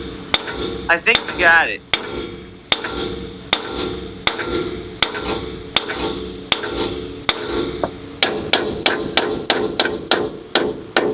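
A hammer strikes a car's lower ball joint again and again in sharp metallic blows, steady at first and then quickening near the end, with a short remark spoken partway through.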